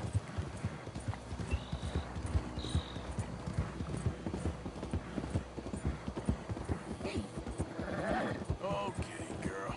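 Rhythmic video game horse hoof clip-clops at a slow walk in Red Dead Redemption 2, close and steady, with ambient outdoor noise and a brief whinny-like sound near the end.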